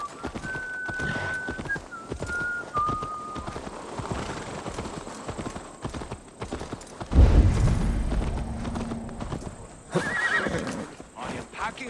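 Horse riding in the video game Assassin's Creed Valhalla: steady clip-clop of hooves and a loud whinny partway through, under people talking and a bright tonal whistle.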